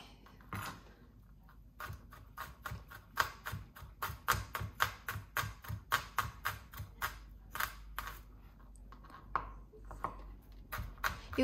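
A knife chops garlic on a cutting board in quick, even, close-up taps, a fast rhythmic run of sharp knocks that slows and thins out toward the end.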